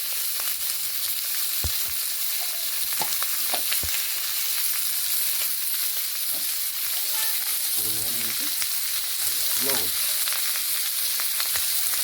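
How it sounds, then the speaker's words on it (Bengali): Chicken frying in a pan with turmeric, a steady close sizzle running throughout, with occasional clicks and scrapes of stirring and brief voices in the background. "কিছুটা ভাজা হয়ে গেছে"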